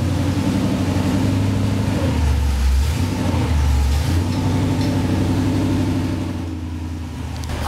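A car drives by next door with a low, droning engine hum that swells and rolls steadily, then fades slightly toward the end, heard alone without talk.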